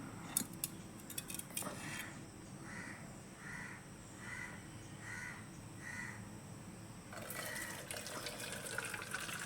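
Whey pours and splashes steadily near the end as it is strained from homemade paneer, while a crow caws five times at an even pace in the background.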